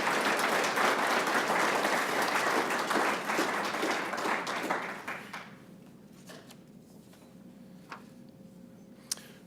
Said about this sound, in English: How about a big round of applause for these wonderful students?